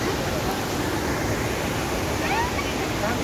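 Mountain water rushes down a hillside after rain, a steady, dense broadband roar that stays even and continuous throughout without pauses.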